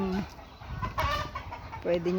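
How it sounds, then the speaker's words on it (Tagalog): Short bursts of imported gamecock clucking, with a brief low call near the start and another near the end, set against a busy outdoor background. "Mga imported na manok."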